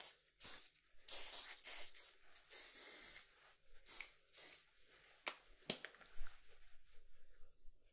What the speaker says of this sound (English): I'm just going to spritz it and then it should dry pretty quick.